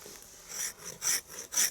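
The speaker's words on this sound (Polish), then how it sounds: "grzbietem noża zeskrobuję, grzbietem bądź ostrzem, jak kto woli" Back of a knife scraping a resinous fatwood splinter, producing three short rasping strokes, each a dry scratchy burst separated by brief pauses, close and fairly quiet with no talking.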